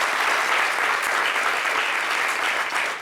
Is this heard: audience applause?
yes